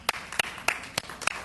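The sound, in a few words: audience applause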